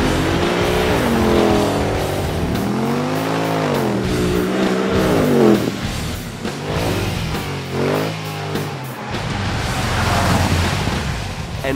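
A lowered white Mercedes on semi-slick tyres sounds its finely tuned exhaust, the engine note swelling and falling through several loud revs, close and alone with no talk.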